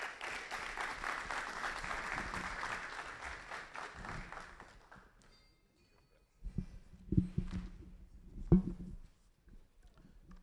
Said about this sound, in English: Ladies and gentlemen, help welcome Chief Na Al-Hassan Andani with a round of applause.